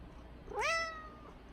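A single short cat meow, rising then falling in pitch, fairly close against a quiet background hum.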